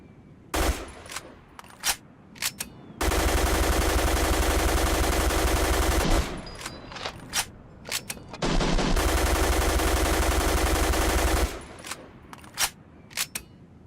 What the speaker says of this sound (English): Here's the full reload when you finally shoot out all the ammunition inside of your weapon